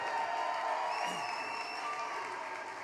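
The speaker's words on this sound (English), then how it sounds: "So what he's saying is stop applauding, but go ahead." Audience at a St. Louis Cardinals Winter Warm-Up fan event applauding and cheering for a player on the main stage, a steady crowd wash with a few faint whoops.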